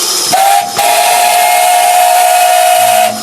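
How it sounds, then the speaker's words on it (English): A steam locomotive whistle blasts loud and steady for about three seconds, close by, over a strong hiss of escaping steam. "So give us a blast on the whistle."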